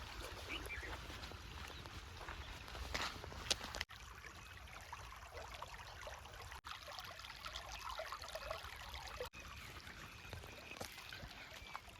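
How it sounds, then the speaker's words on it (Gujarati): Irrigation water gurgles and trickles steadily through a farm field channel in Gujarat, a continuous, close, fairly soft burble with no voices. "આ રીતનું પાણી આવે છે, કળકળ કળકળ અવાજ આવે છે."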